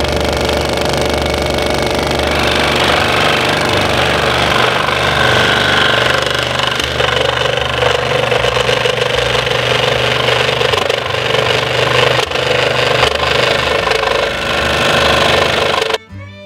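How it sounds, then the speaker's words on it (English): A scroll saw cuts two arcs in a wooden piece, with a loud, steady, rapid buzzing chatter running for about sixteen seconds before it abruptly cuts off at the end. "Next is over to the scroll saw, where I'm gonna cut 2 arcs to make this thing just look a little bit prettier."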